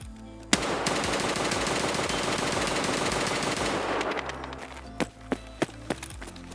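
SR-25 rifle hip-fired in the shooter game Escape From Tarkov: a dense, sustained roar of rapid gunfire for several seconds, followed by several separate sharp single shots, loud and close.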